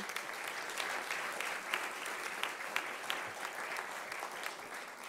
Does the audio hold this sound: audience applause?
yes